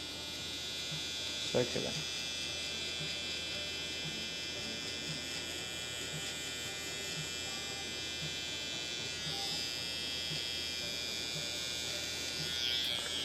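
Electric hair clippers buzz steadily and close-up while setting a bald line for a burst fade, with someone talking quietly over the constant hum.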